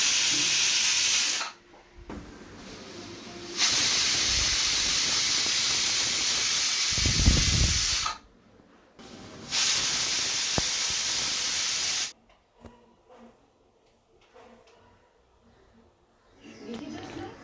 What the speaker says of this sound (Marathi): छान अशा तीन ते चार शिट्ट्या कुकरच्या काढून घेणार आहोत